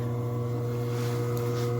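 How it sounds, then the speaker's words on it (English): A quiet kitchen appliance motor spins a cutting blade, producing a steady low hum with stable tonal harmonics and a faint airy whir, continuous and close with no talking. "The blade's turning."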